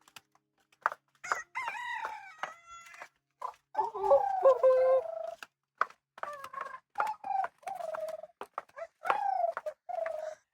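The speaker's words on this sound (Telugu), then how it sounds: "Does the chicken think it's morning time?" Chickens on an Azores island give a series of close clucks, squawks and warbling calls in short irregular bursts against a quiet background.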